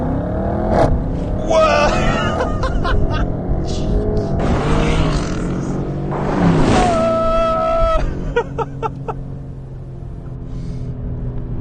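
A BMW M850i launching under launch control, its engine and exhaust roaring as it accelerates hard through rising gear pulls, loud and close from inside, with a startled exclamation and some talk.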